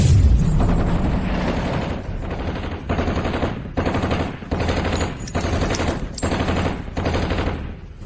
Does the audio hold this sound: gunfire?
yes